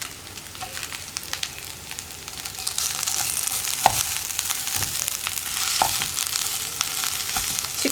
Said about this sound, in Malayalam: ചിക്കൻ ക്യൂബും കൂടി ചേർത്ത് നമുക്ക് ഇളക്കി മിക്സ് ചെയ്യാം